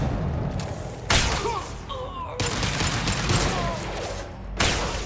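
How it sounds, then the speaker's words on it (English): Concussive shots fire in Mass Effect 2 combat: several loud percussive blasts with sudden onsets punctuate steady battle noise, with brief voices and effects in between. "Firing concussive shot!"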